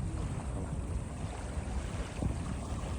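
Wind gusting over a small fishing boat on open water with light rain about, a steady low buffeting roar against the microphone with faint lapping water, continuous and close, no voices.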